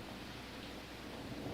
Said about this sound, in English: look at the storm starting to kick in